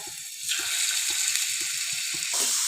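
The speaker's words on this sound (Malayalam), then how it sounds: "നമ്മൾ മാഗ്നേറ്റ് ചെയ്ത് വെച്ച ചിക്കൻ അതിലേക്ക് ഇട്ട് കൊടുക്കാം" Marinated chicken drops into hot oil in a pan and starts frying, a bright steady sizzle that jumps up suddenly and keeps hissing, with a soft rhythmic tapping underneath and a second surge of sizzle near the end.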